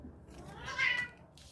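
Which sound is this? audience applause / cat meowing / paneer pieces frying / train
cat meowing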